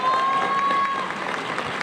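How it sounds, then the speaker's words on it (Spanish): Applause for the governor at a formal political session, an even patter of many hands clapping in a hall, moderately loud and continuous, with a faint whistle-like tone near the start. "Un aplauso para el gobernador."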